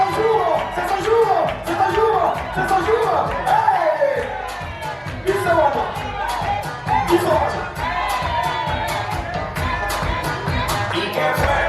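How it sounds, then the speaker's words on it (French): A party crowd at a dance evening cheers and whoops loudly, with shouting voices and lively commotion filling the room throughout; people talk and call out over the noise. "Applaudissez pour la belle Barcelonaise"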